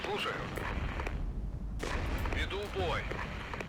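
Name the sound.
mortar and artillery fire in video game Regiments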